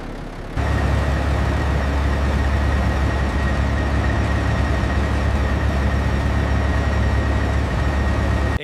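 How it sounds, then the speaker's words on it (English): A restored 30-meter Leviathan Titan 12X monster truck engine runs at a steady, deep idle. The low rumble starts abruptly after a brief silence and holds constant and close, with no voices. "The engine runs smooth."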